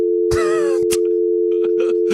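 A steady, unbroken telephone dial tone hums throughout as a call is placed live on a sports radio broadcast, overlaid by brief bursts of clatter and noise.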